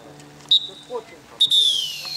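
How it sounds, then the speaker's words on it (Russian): Two sharp, high referee's whistle blasts ending a football match, the second one long and drawn out, sounding over faint background chatter. "Звучит финальный свисток."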